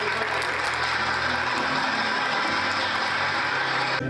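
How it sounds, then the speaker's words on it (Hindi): Audience applause at a gathering: a continuous, even rattle of many hands clapping throughout, loud and steady with a low hum beneath, cutting off abruptly at the end, with no talking. "एक बार जोर से तालियां बजाकर"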